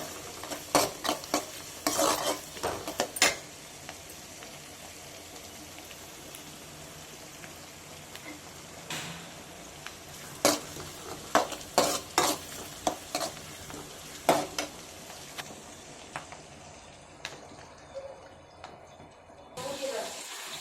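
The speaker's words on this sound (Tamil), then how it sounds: "கொஞ்சம் எண்ணெய் விட்டுக்கிட்டு பட்டை, லவங்கம், வெங்காயம், 2 பச்சை மிளகாய் போட்டுருவோம். போட்டு நல்லா வதக்கிக்கணும்." Onions, two green chillies, cinnamon and cloves sauté in oil in a kadai, a soft continuous sizzle broken by bursts of spatula stirring and scraping against the pan, then tapering off near the end.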